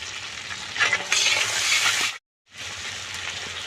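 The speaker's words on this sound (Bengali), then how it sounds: "লাল করে ভাজা হয়ে গেছে রসুন কুচি টমাটম দিচ্ছি" Chopped garlic and tomato frying in a pan, a loud steady sizzle with stirring scrapes, briefly cut to silence before the frying resumes.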